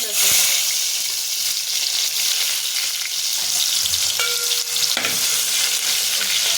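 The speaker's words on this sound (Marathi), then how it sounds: "आता हे सर्व मी फोडणीमध्ये टाकून घेते" Loud, steady sizzling of mushrooms and vegetables frying in hot oil tempering, with occasional stirring clinks and faint talk in the background.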